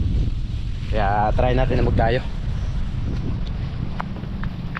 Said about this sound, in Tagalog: Hindi naman malakas yung amihan dahil bago pa.